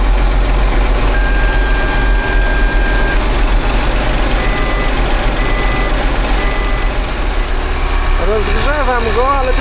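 A Case IH Magnum 310 tractor engine runs steadily after starting, a loud continuous low rumble with a reversing-style beep pattern and a brief voice near the end.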